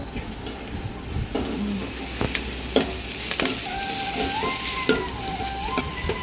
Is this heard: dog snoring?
no